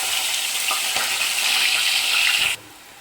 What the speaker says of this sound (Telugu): నూనె హీట్ అయింది కదా. మళ్ళీ కొంచెం మసాలా దినుసులు వేసుకొని, ఇగో ఒక పెద్ద ఉల్లిగడ్డ పేస్ట్ చేసి వేసుకుందాం